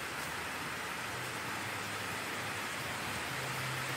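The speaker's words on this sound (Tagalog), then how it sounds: "ang lakas talaga ng ulan niya" Steady, dense hiss of heavy rain pouring down without a break, loud and continuous with a faint low hum underneath.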